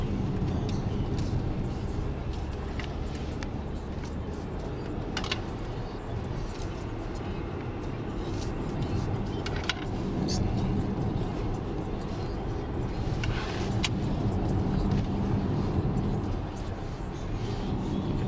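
A 2018 Porsche Cayenne drives over a rough road, with a steady loud cabin rumble of road and tyre noise that holds throughout, broken by occasional faint knocks and thumps from the suspension.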